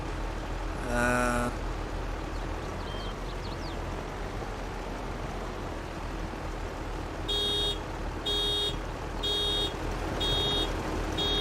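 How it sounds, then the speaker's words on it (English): A grain cart in Farming Simulator 22 beeps as it nears full, a burst of rapid beeps early on and then four evenly spaced beeps later, heard over a steady low engine drone. "So she's beeping now because she's almost full."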